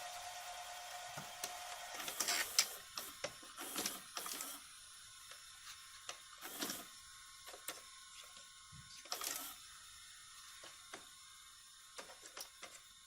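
A Funai VCR's tape mechanism running after play is pressed: faint mechanical whirring with scattered clicks and clunks, close and quiet.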